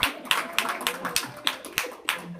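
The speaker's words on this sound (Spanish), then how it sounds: "denle un aplauso al Señor y a la pastora" A church congregation claps in a steady rhythmic beat, sharp hand claps ringing out at a regular pace, with some voices mixed in.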